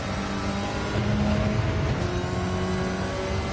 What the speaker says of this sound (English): Oh, you can listen to the turbo in this car.